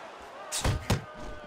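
A right-hand punch lands on the head in the boxing game Fight Night Champion, giving two quick, sharp thumps against a steady crowd murmur.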